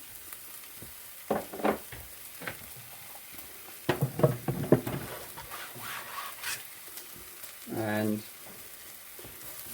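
Onions frying in a pan while being stirred, with soft sizzling and scattered scraping strokes of a utensil, a brief louder scrape near the end, and a voice speaking briefly at the start.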